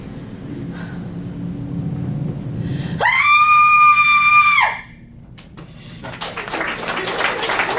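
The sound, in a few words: woman's scream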